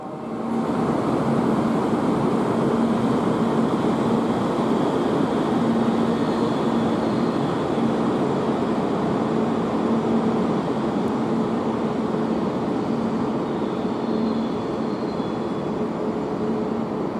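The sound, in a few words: Tsubame 316 train bound for Hakata departing from platform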